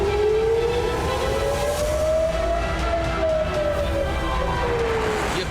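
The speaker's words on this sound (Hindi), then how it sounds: "कानों में युद्ध के सायरन सुनाई दे रहे हैं।" A wartime air-raid siren in Israel wails with a slow rising and falling pitch, loud and continuous over a rumbling background with no voices.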